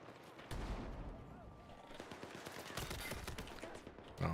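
Gunfire crackles in a video game as a quick, rapid series of sharp shots at moderate volume, mixed in with voices talking.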